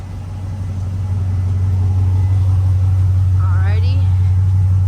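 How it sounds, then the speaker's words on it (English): A 2003 Chevrolet Silverado extended-cab truck rumbles through its exhaust with a deep, steady low drone that swells slightly, close up, while a voice briefly exclaims near the end. "kind of want to show you guys what the exhaust sounds like."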